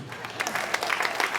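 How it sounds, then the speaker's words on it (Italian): An open-air piazza crowd at a summer evening show in Jesolo breaks into brief applause, a dense patter of many hands clapping together at moderate distance. "Voglio un applauso."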